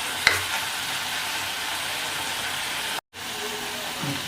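Snake gourd and dried shrimp fry in a pan over a medium flame with a steady, close sizzle and hiss, briefly cut off once, with a soft stirring scrape near the end.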